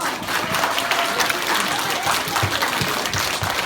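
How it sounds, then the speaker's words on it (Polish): Continuous audience applause at a school stage performance of the Polish poem Rzepka, dense and even for the whole stretch, with a few voices faintly under it. "Brawa."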